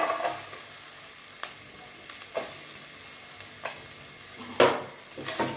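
Chopped onion dropped into garlic frying in a pan for a Tamil keerai poriyal, a soft steady sizzle broken by several sharp scraping stirs of a spoon against the pan, fairly quiet and with no voices.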